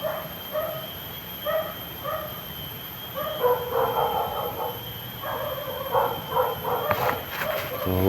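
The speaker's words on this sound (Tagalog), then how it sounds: "Ito mga aso na ito, wala itong nagmamayari." Stray dogs with no owners in an outdoor area barking in short repeated bursts, some yips mixed in, moderately distant over steady background hum.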